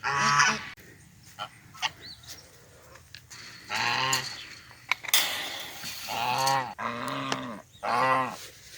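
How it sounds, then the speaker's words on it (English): Geese honk loudly in repeated bursts, several birds calling close by with short pauses between, and a brief rattling noise partway through. "where the chickens and the geese are, and I'm bringing them a snack, so maybe they'll be quiet"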